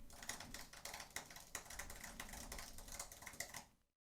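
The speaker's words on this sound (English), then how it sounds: "now I'm going to be typing furiously on this keyboard" Fast, furious typing on a computer keyboard picked up by a Shure SM7B dynamic microphone, a dense stream of quick clicky keystrokes with sharper accents, steady and fairly close, ending abruptly.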